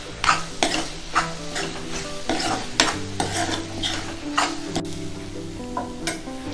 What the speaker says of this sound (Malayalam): എന്നിട്ട് ഇത് നന്നായിട്ട് മിക്സ് ചെയ്ത് നോക്കാം